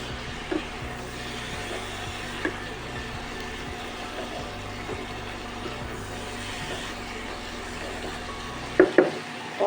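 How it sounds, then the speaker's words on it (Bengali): Chicken pieces fry in a pan for a chicken thukpa soup, with a steady low sizzle under a constant background hum and a few clanks of utensil on the pan near the end. "এবার দিয়ে দেবো আমি চিকেনগুলো।"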